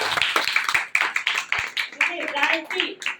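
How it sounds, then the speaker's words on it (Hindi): An audience at a business meeting claps in scattered, uneven bursts with irregular sharp hits, while voices talk over the clapping. "तो एक बार अपने लिए जबरदस्त ताली बजा लीजिए"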